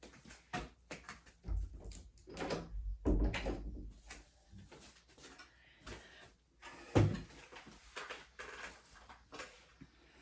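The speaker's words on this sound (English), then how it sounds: "I'm gonna close the door because somebody just came home" An indoor door is closed in a quiet room, heard as a few soft, muffled thuds and bumps spread across the clip, with no one speaking.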